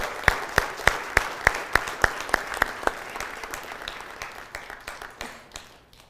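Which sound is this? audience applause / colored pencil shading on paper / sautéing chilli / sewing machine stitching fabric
audience applause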